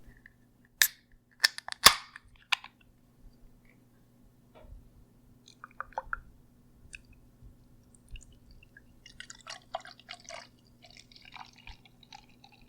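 A bottle of bourbon barrel beer is opened, giving a couple of sharp pops and clicks followed by quieter handling taps and a soft fizzing pour.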